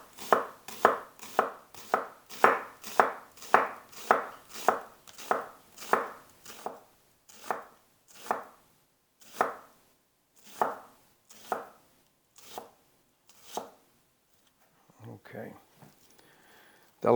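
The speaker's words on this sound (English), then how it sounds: "It's a half of a large onion, and then thinly slice this." A kitchen knife thinly slices half of a large red onion on a cutting board, giving a fast, steady run of crisp chops that slows into more widely spaced single cuts, then fades to faint handling noises near the end.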